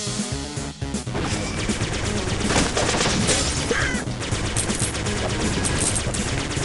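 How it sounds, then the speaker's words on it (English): Special enemies in the pixel-art pirate game Flinthook open fire, a loud rapid barrage of gunshots and crashing impacts layered over game music, continuous and busy from start to finish. "Right, they shoot four times. I forgot. The special ones shoot four times."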